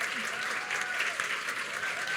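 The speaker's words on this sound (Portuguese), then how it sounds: "Palmas para Débora." Dense, sustained applause from an audience at a literature talk, steady clapping that fills the whole moment without letting up.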